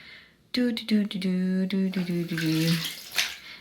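Tap water runs steadily in the background. A tonal, voice-like sound rises over it in several bursts.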